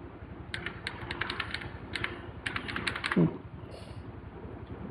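Keys clatter on a computer keyboard as Photoshop shortcuts are entered, a quick irregular run of light close taps with a brief pause, faint in a quiet room.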